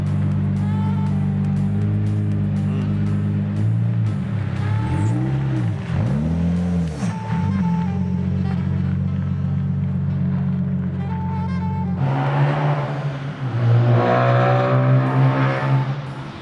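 A Nissan 350Z drives along with a loud, close engine drone. Revs rise and fall in sweeping gear changes, then the engine grows louder and rougher under hard acceleration.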